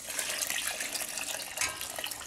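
Dark malty liquid for home-brewed beer pours steadily into a big brewing pot, a continuous splashing, gurgling stream heard close up with no talking.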